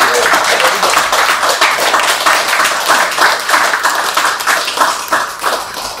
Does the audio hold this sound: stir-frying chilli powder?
no